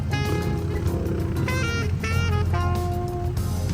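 An old family pickup truck's engine runs at a steady idle close by, a low continuous rumble with shifting whining tones riding over it, and no talk.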